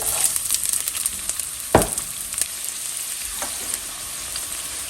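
Chopped onion fries in a little oil in a pot with a bright, continuous hiss and a sharp crackle, plus a single clear knock of a utensil against the pot partway through.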